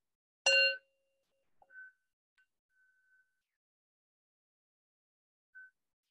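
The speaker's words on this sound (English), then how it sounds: "Okay, so now we'll do the bell." Meditation bell heard over Zoom through an AirPods microphone with original sound off: one sharp bright ding that cuts off quickly, followed by a few faint, clipped tonal remnants in near silence.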